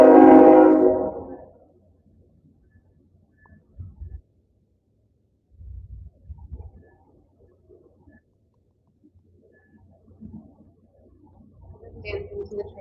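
A passing train during an indoor hatha yoga class sounds a loud horn blast at the start that fades over about two seconds, followed by faint low rumbling and scattered quiet movement.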